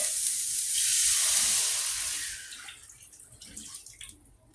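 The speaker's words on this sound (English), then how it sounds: "So now I'm going to stir in my milk." Milk poured into cooked ground beef in a hot pan sets off a loud hissing sizzle that fades over a few seconds. Quieter bubbling and stirring scrapes follow.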